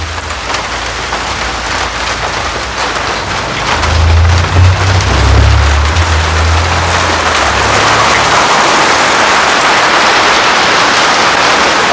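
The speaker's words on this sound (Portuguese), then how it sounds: "Olha a chuva, vó Elzy." Heavy rain pours down over a cactus garden in a loud, unbroken hiss of drops striking surfaces nearby, with a low rumble swelling briefly midway.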